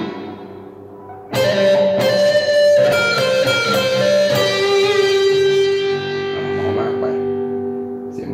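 An electric guitar with crunch distortion and added hall reverb rings out in sustained solo notes from a Thai song after a quieter opening, the tone lingering and slowly fading in a wide wash.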